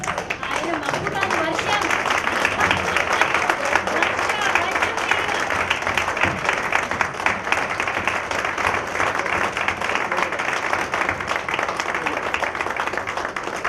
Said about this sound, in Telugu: really please standing ovation please చప్పట్లు ఒక్కసారి ప్లీజ్